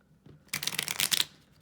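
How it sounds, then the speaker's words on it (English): A deck of playing cards is riffle-shuffled once, a brief close, crisp fluttering burst of cards lasting under a second, heard alone. "you can do another shuffle and make sure the top couple cards are still on top"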